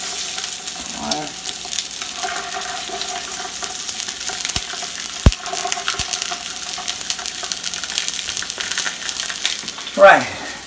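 Sausage browning in a pot for a Louisiana rice and gravy, a steady broadband sizzle running throughout with a few sharp clinks and a brief stir or scrape near the end.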